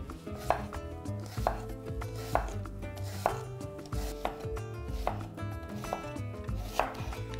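A knife slices a red onion thinly into half-rings on a cutting board, giving steady, close, crisp chopping strikes repeating rhythmically, with no talk.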